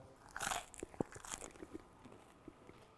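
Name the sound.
biting into crusty sourdough baguette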